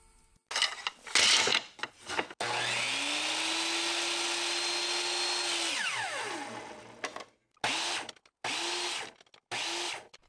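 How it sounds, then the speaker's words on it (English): A router table with a 1/8 inch roundover bit spins up and cuts wood, a steady high whine that holds for several seconds, winds down, then comes back in shorter bursts. "putting an 1/8 inch roundover bit into the router table and running it through with a featherboard"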